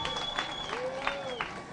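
A crowd at a political rally claps and cheers in a brief, dense burst. A voice carries over the applause.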